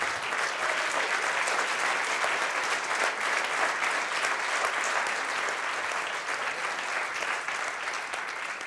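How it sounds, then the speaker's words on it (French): A crowd at a chess event in Paris applauds steadily, a dense wash of clapping that holds strong throughout and eases slightly toward the end. "on peut les applaudir encore à nouveau"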